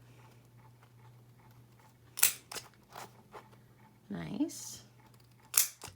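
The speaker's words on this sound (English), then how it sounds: "So just take your scissors and trim it off." A few crisp scissor snips trim glitter faux leather, separated by quiet pauses, with a short spoken remark in between.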